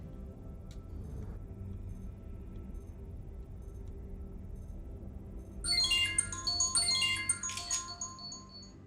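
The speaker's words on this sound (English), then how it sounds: "that was the phone ringing" A telephone ringtone plays a bright, repeating melodic pattern, starting near the end and ringing for a few seconds over a low, steady background hum.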